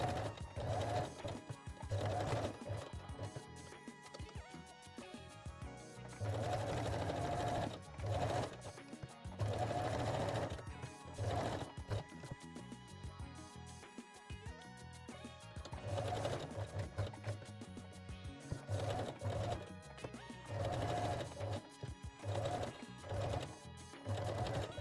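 A sewing machine top stitches lace onto a Carmen bralette, running in long, steady motor bursts with brief pauses and restarts, close and continuous.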